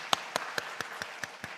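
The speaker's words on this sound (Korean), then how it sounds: "하나님께 감사의 박수 한번 올려드릴까요?" A church congregation at a Friday worship service claps in steady unison, about seven evenly spaced claps in under two seconds, heard from a moderate distance.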